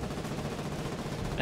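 Machine gun fire in the naval warfare game Foxhole, a rapid dense burst of shots that runs for the whole short moment, loud and close.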